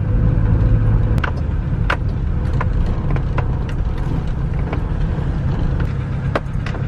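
Steady car engine and road rumble from inside a vehicle driving down a hill road near Todmorden, with sharp ticks and clicks scattered over the continuous drone.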